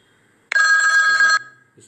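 A phone ringtone bursts on suddenly, a bright ringing electronic tone held loud and steady for under a second before cutting off, followed by a faint murmur of voice.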